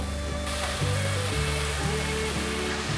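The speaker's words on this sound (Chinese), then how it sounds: "把红萝卜丝炒至半熟，已经差不多了，可以放入香菇" Shredded carrots and shiitake mushrooms stir-frying in a wok for a vegan home-style dish, giving a steady close sizzle with scraping stirs of the spatula throughout.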